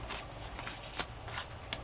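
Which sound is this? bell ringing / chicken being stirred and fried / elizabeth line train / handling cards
handling cards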